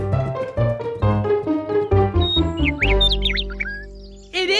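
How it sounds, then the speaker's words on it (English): A high, warbling cartoon bird song from Bananas in Pyjamas, quick chirps and trills rising over a bouncy musical backing. "Can you hear that? It sounds like Little Bird One"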